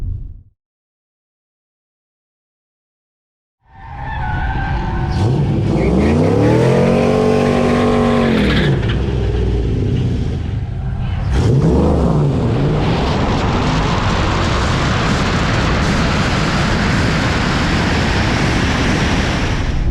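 A Tesla Model S Raven launches in a nighttime drag race against other cars. A few seconds of silence give way to a rising electric motor whine that sweeps up and down, then a loud rushing wind roar as speed builds.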